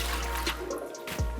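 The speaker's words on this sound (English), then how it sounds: "and pour the water away." Water from rinsed tilapia, cleaned without removing fins or gills, being poured away, a short splashing rush of liquid draining off near and fairly loud, alone.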